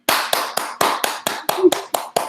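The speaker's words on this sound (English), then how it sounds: "After that huge round of applause" Hands clap about ten times in an even, brisk rhythm, each clap sharp, close and distinct with short gaps between.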